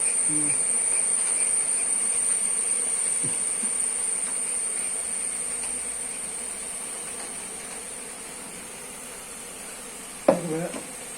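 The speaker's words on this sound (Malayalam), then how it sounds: "വേറെ ഈച്ച വന്നത് കുളവി മരംകുളവി" Wasps buzzing near a beehive, with a thin, steady insect drone close by and a louder brief buzz passing near the end.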